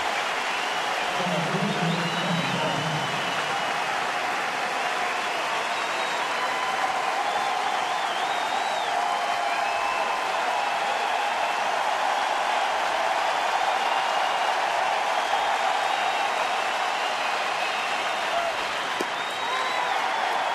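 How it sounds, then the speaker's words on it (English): Ballpark crowd at a Cleveland at Detroit baseball game roars and applauds after a ringing single breaks up a no-hit bid in the eighth, a broad sustained cheer that stays loud and steady throughout. "Listen to the crowd."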